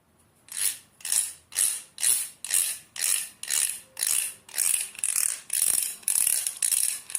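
A Ukrainian folk toy rubel, or dyrkalo, is played with a steady run of about a dozen rhythmic rasping ratchet strokes, loud and close, alone with no talk.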